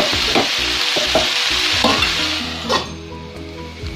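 Ivy gourd stir fry cooking in a pan on a low flame: a steady broadband sizzle with scraping stirs and a few sharp clinks of a utensil against the pan, close and alone with no voices.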